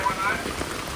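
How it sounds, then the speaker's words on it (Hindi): Heavy rain pours steadily in Rishikesh during flooding, a dense, even hiss of drops on surfaces with faint voices in the background. "लगातार सूचित किया वर्षा हो रही है"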